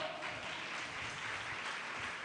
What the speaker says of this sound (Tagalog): Yung mas malakas pang palakpak.